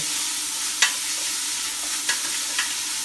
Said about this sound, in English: We've got our garlic going in as well. Give them a quick saute.